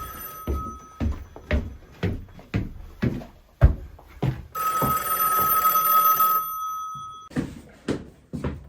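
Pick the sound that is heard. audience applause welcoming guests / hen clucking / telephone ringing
telephone ringing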